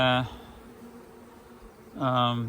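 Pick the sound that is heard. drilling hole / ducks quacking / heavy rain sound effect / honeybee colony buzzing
honeybee colony buzzing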